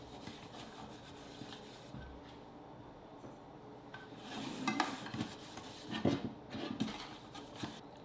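Butter is rubbed around the inside of a loaf pan, making soft, irregular scraping and rubbing strokes that grow busier and louder toward the end, close by and without talk.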